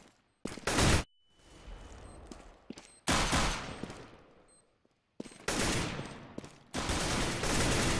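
AK rifle fire in CS:GO, several loud sustained bursts separated by short quiet gaps, close and dominant with no talk over them.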